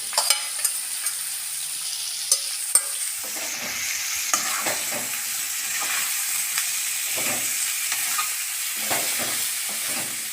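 Ginger and garlic frying in hot oil, giving a bright continuous sizzling hiss close by, with soft bubbling crackles and a few light knocks of stirring.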